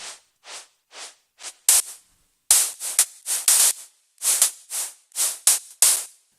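Synthesized noise layer in an Ableton Live remake of "Like I Do" by David Guetta, Martin Garrix and Brooks, short bright hissy bursts pulsing in a rhythmic pattern with silent gaps between them, some hits sharper and louder.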